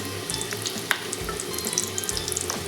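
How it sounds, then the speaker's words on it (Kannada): Garlic and finely chopped ginger fry in a pan for a village-style egg sambar, a soft, continuous sizzle with faint crackles and occasional small pops, no talking. "ಸಣ್ಣದಾಗಿ ಹಚ್ಚಿಟ್ಕೊಂಡ ಶುಂಠಿ ಫ್ರೈ ಮಾಡಬೇಕು ಚೆನ್ನಾಗಿ"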